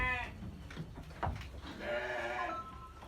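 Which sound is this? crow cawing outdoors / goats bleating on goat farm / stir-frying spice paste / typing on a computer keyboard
goats bleating on goat farm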